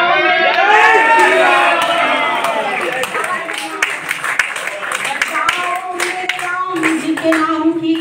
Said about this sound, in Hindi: दोनों हाथ हवा में उठा के जय घोष करो तालियां बजाओ।